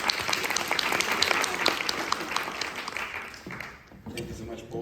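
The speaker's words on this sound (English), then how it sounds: "Let's give him a round of applause." Audience applause for a speaker at a business event, steady and moderately loud with distinct claps throughout, thinning slightly toward the end as it begins to fade.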